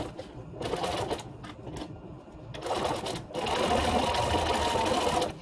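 A sewing machine top stitches a zigzag seam on a fabric mask in close, steady runs of rapid needle chatter. Short bursts come first, then a longer continuous run. There is no talk over it.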